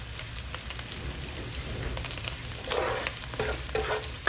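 Garlic and onion scorch in a hot pan, making a continuous crackling sizzle with stirring scrapes and a few louder spatters near the end.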